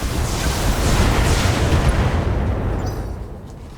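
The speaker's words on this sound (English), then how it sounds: "Oh, I could just pepper him with missiles." A mech in the BATTLETECH video game looses a volley of missiles, a loud rushing roar of launches and blasts that fills the moment, then fades toward the end.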